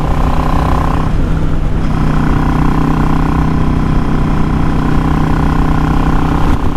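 A Yamaha XVS650 motorcycle engine fitted with a Mikuni 22.5 pilot jet and a 120 main jet runs close and loud, a steady rumbling idle with a slight change in tone partway through.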